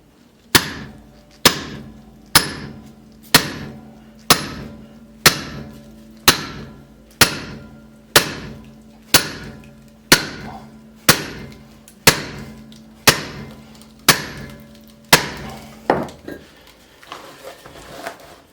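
A steel splitting wedge is struck into a split in a firewood log, about fifteen sharp metallic blows at a steady one-per-second rhythm, close and loud, each ringing briefly before the next.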